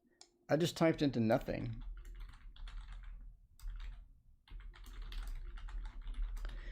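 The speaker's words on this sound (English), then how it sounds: "When I just typed into nothing." Computer keyboard typing in bursts of soft, close key clicks with pauses between them, following a brief stretch of talking at the start.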